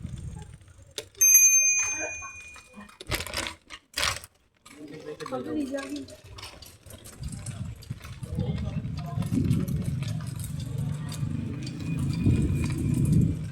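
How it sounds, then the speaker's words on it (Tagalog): Loud bicycle bell rung in a few quick bright rings on a ride around Greengate, followed by rattling and clattering, with talk and steady road rumble in the background. "Lakas din ng nito, lakas din ng bell."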